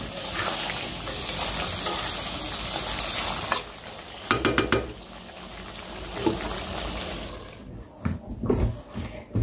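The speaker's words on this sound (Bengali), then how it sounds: "আমি মুরগির মাংসটাও চড়াই দিচ্ছি" Chicken meat frying in a pot in the evening, a loud continuous sizzle with bursts of clattering stirring strokes midway and toward the end, the frying easing as the utensil scrapes the pot, close by and without speech.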